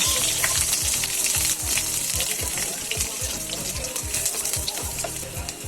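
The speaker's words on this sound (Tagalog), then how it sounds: "igisa na rin natin ang ating sibuyas" Onions sautéing in a pan for Filipino ginisang ampalaya, a continuous close sizzle with crackling pops and occasional stirring sounds, steady throughout.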